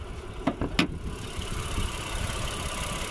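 A 2023 Honda Pilot's quad-cam 3.5-liter V6 idles under the open hood, a steady low hum with a couple of brief knocks near the start.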